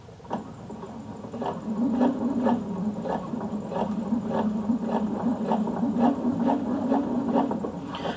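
A sewing machine runs slowly along a 3/4 inch flat fell seam, giving a steady, even series of needle strokes at a moderate pace over a continuous low motor hum, close by and with no talk.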